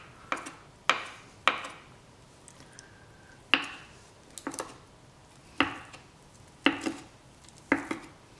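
A knife roughly chopping feta cheese on a cutting board, about nine crisp, sharp chops spaced irregularly, close and clear with no talking.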